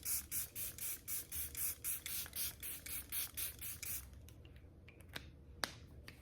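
Makeup setting spray hisses out in about fifteen quick, evenly spaced bursts from a pump bottle, close and fairly soft. A couple of faint clicks follow once the spraying stops.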